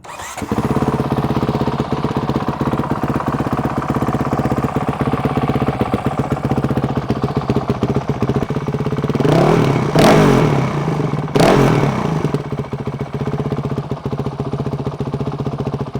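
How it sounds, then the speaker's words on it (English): A Honda 450RL dirt bike with a Graves full titanium exhaust idles loud and close with a rough, rapid thump, then two sharp throttle blips rise and fall before it settles back to idle. "here's a look at the Gray's full titanium exhaust for a 450R."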